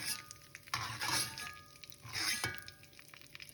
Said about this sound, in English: Saute it till they become crispy.